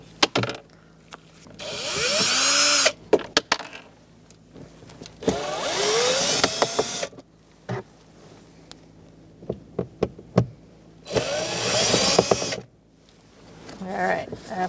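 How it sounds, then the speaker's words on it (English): Screws being removed with a drill or screwdriver from an interior panel of a 2010-2013 Kia Soul 2.0L during a cabin air filter change: loud whirring bursts of a power driver between clicks and knocks, close by. "after you have taken out all of those screws"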